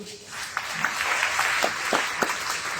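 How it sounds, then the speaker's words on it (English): An audience at a live-streamed installation event applauds with steady, moderately loud clapping that builds slightly and continues evenly, with no speech over it. "Ladies and gentlemen, a big round of applause once again for CC."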